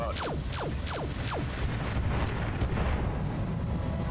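A Gauss rifle fires in the BattleTech RogueTech game, giving a loud, booming explosive blast with quick descending zaps at the start and a sustained rumbling roar afterward, with no talking over it.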